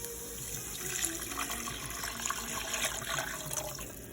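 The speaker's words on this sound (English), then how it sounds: "we're going to put in 3 cups of water" Three cups of plain water are poured into a cast iron cooking pot for Cajun pastalaya, a steady splashing rush that continues without a break, moderately quiet and close.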